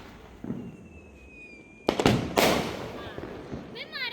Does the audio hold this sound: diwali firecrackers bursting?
yes